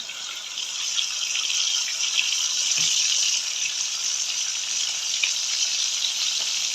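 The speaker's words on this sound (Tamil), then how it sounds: "இப்போ கடுகு வந்து போடுவோம்" Steady sizzling and crackling of mustard seeds frying in hot oil, a bright continuous hiss with scattered small pops.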